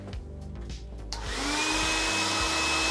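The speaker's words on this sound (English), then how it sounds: "I'll give this guy a quick blast with a hairdryer just to make sure he's dry" A hair dryer switches on after a second of quieter background noise, then blows in a loud, steady rush of air with a constant whine.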